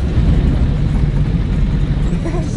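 A worn-out, scrap-condition UAZ 469 off-roader is floored at full throttle, its engine giving a loud, steady, rough roar with little sign of building speed.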